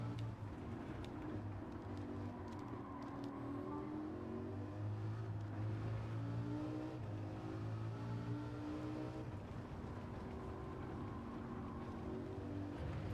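A race car engine in the Gran Turismo 7 video game on the Nürburgring circuit drones steadily throughout, its pitch rising and falling through gear changes at a moderate, even level.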